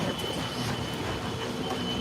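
A studio tour tram riding on rails at Universal Studios Hollywood, giving a steady rumble with faint wheel squeal and a thin high whine throughout.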